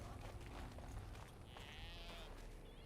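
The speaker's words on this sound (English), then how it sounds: "Some interesting looking goats." Goats in Dragon Age: Origins give a drawn-out bleat partway through, heard over a steady bed of game ambience and background music.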